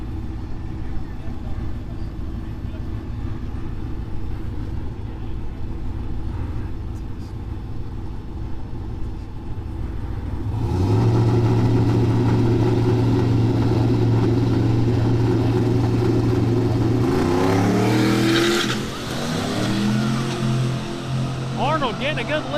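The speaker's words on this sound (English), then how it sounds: "Got that turbocharged single cab Silverado over here." Drag racing cars, including a turbocharged single cab Chevrolet Silverado and an old Chevelle, idle with a low rumble before a much louder engine roar swells in, followed by a sharp rising rev and another surge.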